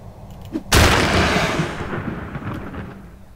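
A bomb blasting in a castle-siege video game: one loud, sudden explosion with a long rumbling decay that fades over a few seconds.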